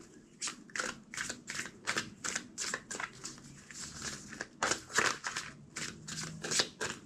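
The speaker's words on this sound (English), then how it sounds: "Two more shuffles." A tarot deck riffles and snaps in quick repeated bursts, a close, crisp rhythmic shuffling that pauses briefly between rounds.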